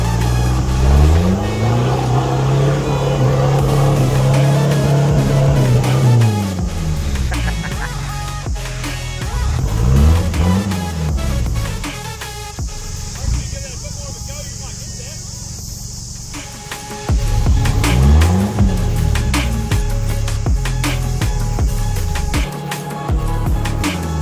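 Toyota 4x4 with a 3-litre 1KZ engine working off-road in a wet 4x4 park, revving up and down in repeated surges with a lull in between, while people talk over the engine.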